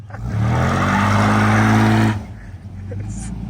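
A truck does burnouts, its engine revving hard and loud in one sustained roar for about two seconds before cutting off, followed by quieter ambient noise.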